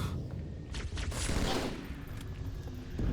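Battle rifle gunfire from Halo 2 rattles on steadily in bursts amid heavy combat din, a dense, continuous wash of shots and explosions with no speech.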